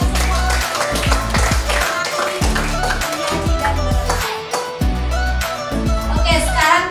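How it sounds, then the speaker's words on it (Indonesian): Rhythmic clapping from a classroom group during a religious education lesson, steady hand claps repeating in a regular beat over a low, booming background for several seconds, with voices mixed in. "Tepuk tangan untuk kita semua."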